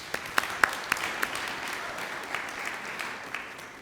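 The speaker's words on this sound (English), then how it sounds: "I want you to give yourselves a round of applause." An audience at a museum park groundbreaking ceremony offers a few sharp, scattered claps that quickly thin into a faint, distant patter of applause.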